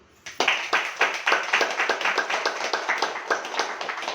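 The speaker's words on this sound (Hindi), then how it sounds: "बीच में ताली बजाओ।" An audience claps together at a spiritual gathering, a steady run of sharp, evenly spaced claps rising into full rhythmic applause and holding for several seconds.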